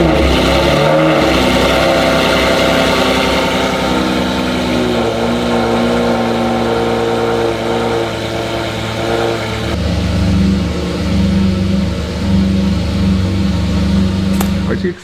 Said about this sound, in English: It doesn't make any sense not to hear this V12 just screaming.